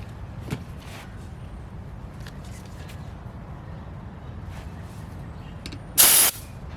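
A short, loud burst of air hisses into a tubeless knobby tractor tire on a John Deere as the bead seats, close by, after a long stretch of steady low background noise.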